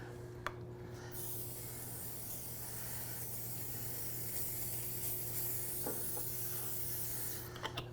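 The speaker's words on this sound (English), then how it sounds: "And I have coconut oil spray from Trader Joe's." Trader Joe's coconut oil spray hisses onto a cooking tray in a continuous soft spray lasting several seconds, faint, with a steady low hum underneath and small clicks at the start and end.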